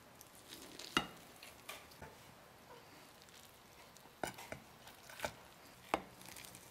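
A knife slices through a baked Italian turkey meatloaf in a home kitchen, giving a few sparse, soft knocks of the blade meeting the board against a quiet background, spaced irregularly.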